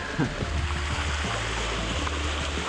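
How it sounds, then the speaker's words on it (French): Water rushes and splashes in a steady, dense roar that continues without a break, like a cascade nearby, at a waterfall with natural pools in Sideman, Bali. "Je suis dans une cascade."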